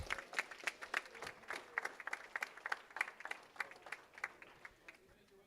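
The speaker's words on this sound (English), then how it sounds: "How about one more round of applause for the Tigers?" Scattered clapping from a small audience at an esports league finals, individual claps distinct and irregular, fairly distant and soft.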